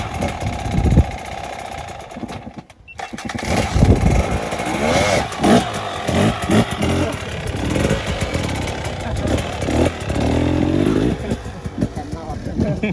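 A hard enduro motorcycle revs during riding training in Cambodia, its engine rising and falling in loud bursts under an instructor's voice, with a short gap where the sound drops out.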